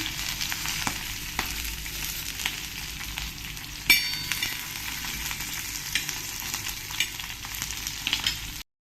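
Onion and dried coconut pieces being roasted for a village-style mutton masala, a steady crackling sizzle close up with occasional stirring scrapes and one sharp knock partway through.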